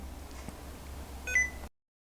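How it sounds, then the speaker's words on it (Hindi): Holding the Num Lock key with Toggle Keys switched on makes the computer give a single short, faint electronic beep over quiet background hiss, after which the sound cuts to silence. "जैसे ही आप थोड़ा लंबा प्रेस करके रखोगे नमलॉक की को तो आपको एक साउंड सुनाई देगा बीप का"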